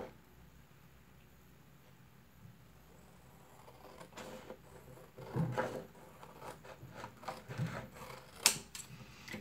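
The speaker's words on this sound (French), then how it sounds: "Je vais prendre mon ciseau et je viens découper mes bords." Scissors cut close up around the edges of a drawing, giving quiet rasping snips and rubbing sounds that grow a little busier toward the end, with no talk.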